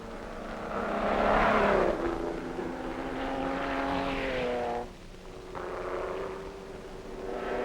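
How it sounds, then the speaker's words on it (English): BRM racing car engine roars past at speed, a loud tonal drone that dips and shifts pitch before fading into the distance, with no talk. "the last of the BRMs fades away"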